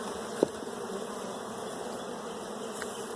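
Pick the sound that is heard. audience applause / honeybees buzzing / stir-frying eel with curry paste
honeybees buzzing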